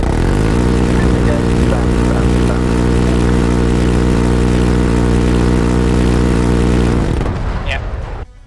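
A Taru helicopter in Arma 3 drones with a steady, loud rotor and engine hum that holds for about seven seconds and then cuts off abruptly, with game radio chatter faintly in the mix.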